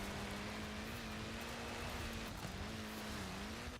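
A car driving in Forza Horizon 4, a steady mid-pitched engine hum holding constant with slight pitch wobbles, moderately quiet and continuous with no talk.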